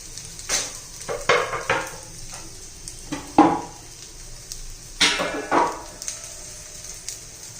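Alu vadi slices shallow-frying in oil in a pan, a soft steady sizzle punctuated by a few clinking, scraping bursts of a spatula against the pan, close and without speech.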